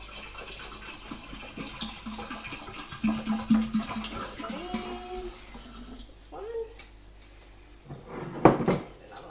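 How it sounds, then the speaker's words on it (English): Room-temperature water is poured into a kombucha jar: a rising gurgling fill tone over clinks of glass and kitchen handling, a splashy burst near the end. "And then we top it up with 2 litres of just room temperature water."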